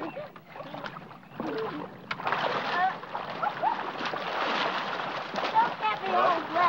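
Water splashing and sloshing around a small boat or canoe on a wilderness lake, steady close movement with people talking throughout.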